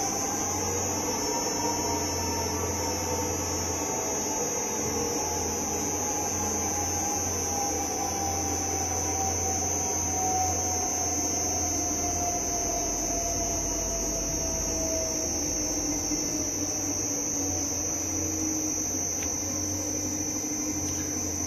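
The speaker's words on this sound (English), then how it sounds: "Now we stop it, and I start the mixer." A 1000L ribbon blender runs at half speed mixing isomalt and inulin, giving a steady, continuous mechanical hum with a faint whine and no change in level throughout.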